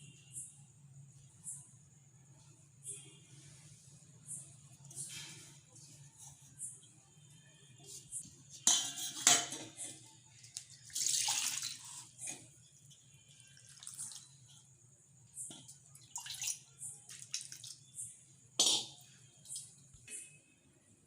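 Water is poured into a mixer jar holding leftover cooked rice, with short splashing bursts scattered through a quiet kitchen over a low steady hum.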